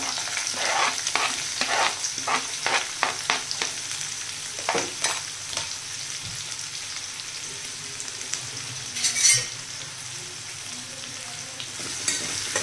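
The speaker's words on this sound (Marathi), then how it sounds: "आणि कांदा छान असा परतून घ्यायचा आहे." A large, finely chopped onion frying in a pan with grated ingredients, a steady close sizzle under repeated scraping strokes of a spoon stirring it, with one brief louder clatter.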